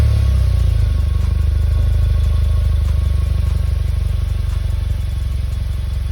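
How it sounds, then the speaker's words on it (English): A Nissan Juke Nismo RS with its original exhaust idles loudly after a cold start, with a steady, low rumbling drone close by and a slight dip in level as it settles. "That's a cold start with the original exhaust."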